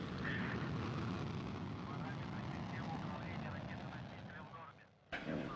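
Soyuz 2.1A booster lifting off from the Baikonur Cosmodrome with a Progress resupply ship, a loud, steady broadband roar that holds for several seconds before briefly fading and returning.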